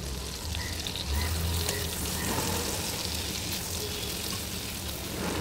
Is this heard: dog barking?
no